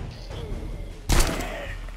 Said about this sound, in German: Mal kontrollierte Schüsse.